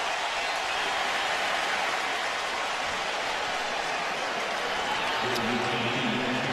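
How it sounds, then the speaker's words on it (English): A large, predominantly Crimson Tide crowd applauding at a 2011 Arkansas versus Alabama college football game, a dense, steady wash of clapping and stadium roar. "this predominantly Crimson Tide crowd shows its appreciation"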